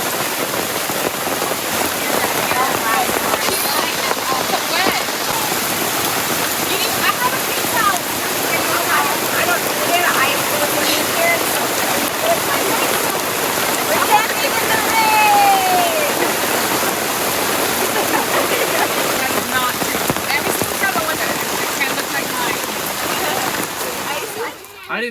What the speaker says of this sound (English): Hear that sound of the rain in the trees?